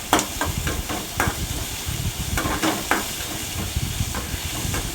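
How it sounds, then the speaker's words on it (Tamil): Chopped garlic and curry leaves sauté in a hot pan, giving a steady crackling sizzle broken by irregular scraping and stirring knocks close by. "பூண்டு கொஞ்சம் சின்னதாக பொடியாக நறுக்கி போட்டு நல்லா வதக்கிக்கணும்"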